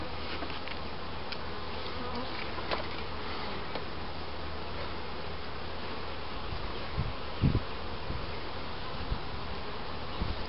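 Honey bees buzzing around beehives outdoors in summer, a dense, continuous hum at moderate level with a few faint clicks and rustles, and no voices.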